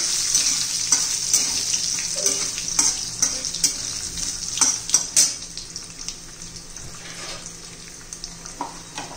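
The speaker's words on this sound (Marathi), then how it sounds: "ओलं खोबरं पण घालून घ्यायचंय, ते छान तेलात तळून घ्यायचंय।" Grated fresh coconut fries in hot oil for tomato-potato poha, giving a continuous bright sizzle with occasional scraping and clinks of a spoon against the pan, close and loud with no talking.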